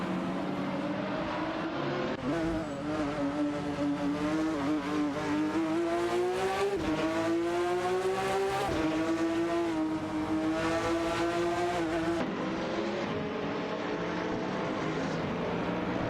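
Mercedes-Benz SLS AMG race cars in the Live for Speed racing game roar past with a continuous engine drone whose pitch climbs and dips through gear changes, loud and sustained with no break.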